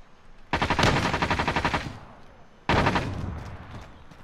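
Gunfire in a multiplayer shooter video game: a rapid automatic burst of shots, then a second burst after a short gap, loud and close, with no talk over it.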